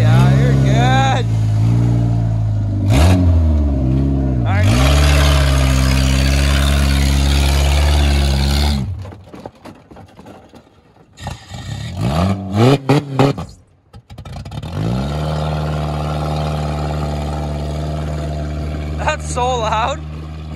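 2020 Ford F-150 Platinum pickup with its muffler knocked off, a loud raw engine roar that rises and falls in revs, then idles rough and rumbling, with people talking and shouting over it outdoors in winter.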